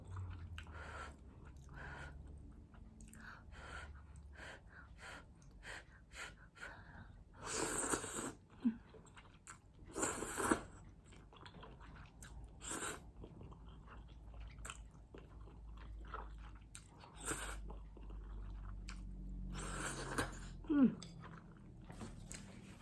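Someone eating a big hot bowl of Japanese udon noodle soup, with close wet chewing, slurps and bites in irregular bursts and occasional louder sucking pulls between quieter stretches.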